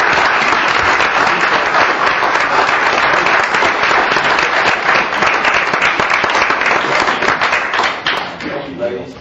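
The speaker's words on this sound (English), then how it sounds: "give these folks a round of applause" A council meeting audience gives the winners a dense, sustained round of applause from many hands, loud and steady before tapering off near the end, with faint voices underneath.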